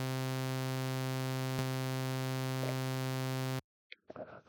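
A sawtooth synth tone typed into the Strudel live-coding environment holds as a steady, bright buzzing drone with a rich stack of harmonics for several seconds, then cuts off abruptly, leaving faint scattered noise.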